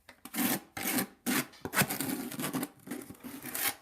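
A trowel scrapes leftover tile mud from inside a bucket, giving several rough rasping strokes in a steady rhythm, close and moderately loud, with no talking.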